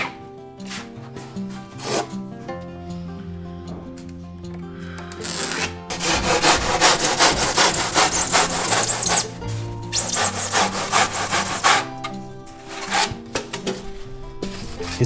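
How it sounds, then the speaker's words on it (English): Hand saw cutting through wood along the edge of a slope ruler during Japanese carpentry on insulation and natural ventilation work; a steady run of rasping back-and-forth strokes, close and fairly loud, framed by quieter tapping and handling before and after. "you can easily cut it using the edge of the ruler as a guide"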